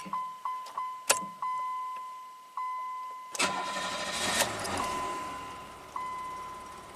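A few short electronic chimes sound, then a 1990 Buick Regal V6 with a severe low-power fault cranks and catches at a steady idle, fairly close, with a final faint chime.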